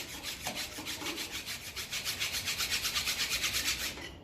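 A narrow, sharp hand file rasps over a metal part of a 1957 Ferguson 35 TVO tractor in quick, even back-and-forth strokes, close and continuous, with no talk.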